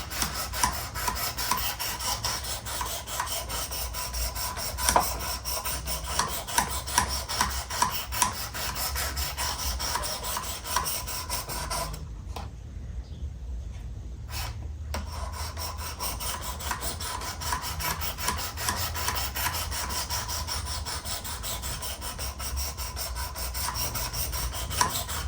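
A knife is sharpened on a Work Sharp Precision Adjust Elite, with close, steady back-and-forth rasping strokes running continuously, broken by one brief pause midway before the grinding resumes.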